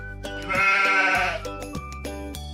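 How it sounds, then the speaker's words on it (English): A cartoonish sheep bleats once in a wavering, nasal cry lasting nearly a second, loud and close over a light background music bed, with no talking. "Sheep."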